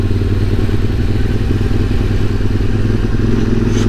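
A QJ SRT600SX motorcycle engine drones steadily and close on a Pyrenean mountain pass, with mechanical clatter and a constant loud hum while the rider shifts into second gear.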